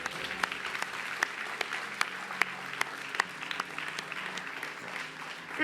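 A church congregation claps and applauds continuously in a worship service, a steady dense patter of many hands with a few sharper claps standing out, no voices clearly over it.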